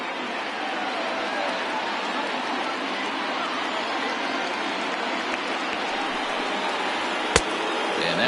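A crowd of over 39,000 on its feet at a Dodgers–Cubs baseball game, a broad continuous roar of cheering from the stands, steady and distant, with a sharp crack near the end.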